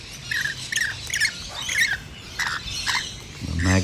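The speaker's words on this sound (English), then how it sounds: "as soon as I did, the rainbow lorikeets spotted it, so he'll come over" Rainbow lorikeets squawking near a feeder, a series of sharp, shrill screeches and chirps in quick bursts, close and fairly loud with no talk.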